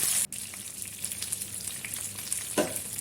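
Turmeric powder and Kashmiri chili powder sizzling and frying in hot coconut oil while being stirred for a mango kalan curry, a steady crackling fry with a brief break and occasional louder stir sounds.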